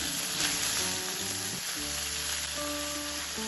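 Chopped red spinach sizzles loudly in a pan with lightly fried prawns, a dense, close and unbroken frying hiss over a low tonal hum.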